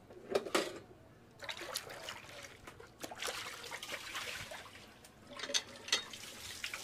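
Water from a poso, a manual hand pump, trickles and splashes in uneven bursts, close by and moderately quiet, with no one speaking.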